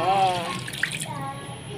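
Water runs into a cooking pot while preparing an egg curry with kerisik and eggplant, a steady splashing fill under a person's speech.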